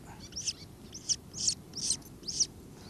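A small ringed nestling bird gives a series of five high, thin chirps at a steady rhythm, fairly close, over a low background hum, at Spurn.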